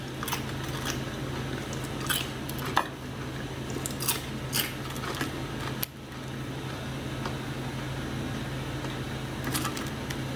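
Crisp crunching bites and chewing close up on a toasted chocolate crepe, several sharp crackles scattered over a steady fan-like hum, with no talking.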